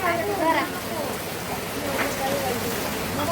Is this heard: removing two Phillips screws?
no